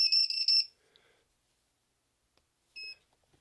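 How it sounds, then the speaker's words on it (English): A Venom LiPo battery monitor alarm sounds when power is connected in a radio-control setup: a rapid burst of four shrill electronic beeps, then quiet, then one more short beep. "when you connect your power plug to the system, you'll get the Venom alarm here."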